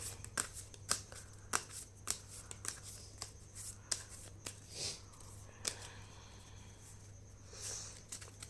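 Tarot cards are shuffled by hand in soft, repeated riffling bursts and light slaps, close and quiet, with a low steady hum underneath and no talking.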